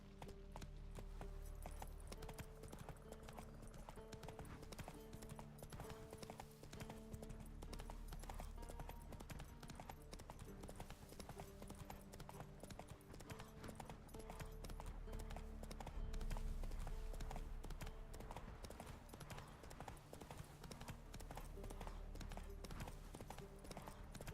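Horse hooves galloping in Witcher 3: Wild Hunt, a steady clip-clop running continuously and fairly loud throughout, with game music and ambient sounds underneath.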